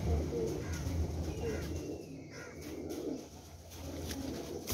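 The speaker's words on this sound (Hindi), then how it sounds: "टैडी कांटे वाला कबूतर है, देख सकते हो" Teddy pigeons in a loft coo softly and repeatedly, low throaty calls close by with faint background noise and no talking.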